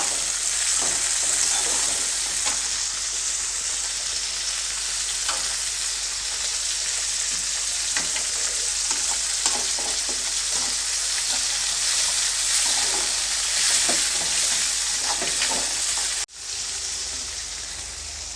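Salted tomatoes fry in a pan with a loud, continuous sizzle, broken by repeated scraping stirs of a spoon. The sizzle cuts off abruptly near the end, then resumes more softly.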